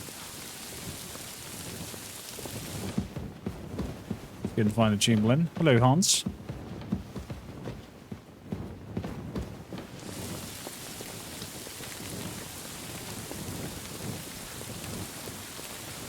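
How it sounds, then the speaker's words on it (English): Rain and thunder in the medieval Bohemian world of Kingdom Come: Deliverance II, a constant hiss of rainfall with a rolling rumble, while someone talks over it and music rises briefly. "It's raining all of a sudden."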